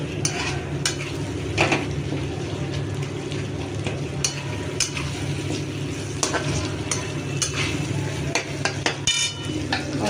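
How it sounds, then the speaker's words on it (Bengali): Meat being stir-fried with spices in a pan, a dense continuous sizzle with frequent clatter and scraping of a utensil against the pan, fairly loud and close. "মাংসটা দিয়ে কষাতে থাকি।"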